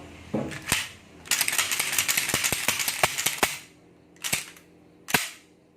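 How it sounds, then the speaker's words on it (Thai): A Remington 1100 shotgun gives off sharp mechanical clicks and snaps, in scattered single clicks and a quick ratcheting cluster, then two isolated clicks spaced apart, close and fairly quiet. "ก็ลั่นปืนไปในทิศทางที่ปลอดภัยครับ"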